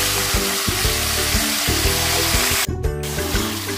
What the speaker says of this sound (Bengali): এরপর সেই ম্যারিনেট করা মাংসটাকে তেলের ওপর দিয়ে দেব।